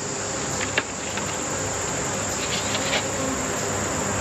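Honey bees buzz steadily around a bee box during mite treatment work, a dense close hum with a few louder clicks or taps over it and no talking.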